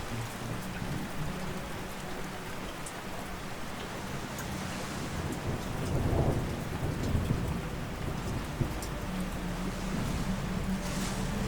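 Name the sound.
thunderstorm with rain and thunder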